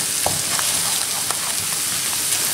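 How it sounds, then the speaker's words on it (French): Beaten eggs poured into a pan of frying stuffing and quickly stirred, giving a steady close sizzle with scattered scraping and clicking of the spoon throughout. "j'ai une omelette de œufs que je vais rajouter rapidement en mélangeant en même temps"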